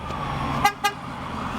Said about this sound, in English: The reason why I just honked was because the keys are actually in my pocket.